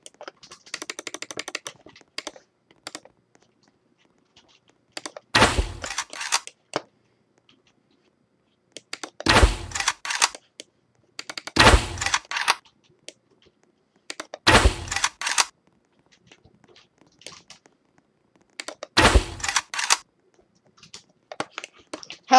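Gunfire in a Roblox video game: five sharp, loud, separate shots spaced a few seconds apart, with faint clicking between them and no talking.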